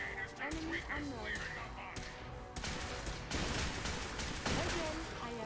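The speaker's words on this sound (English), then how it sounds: "We are being shot at." Video game gunfire in rapid bursts of shots and heavy thumps, loud and close, with a voice talking over the shooting.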